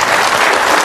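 A studio audience claps loudly to welcome a school principal onto a talk show stage, a dense burst of applause that fills the whole brief moment.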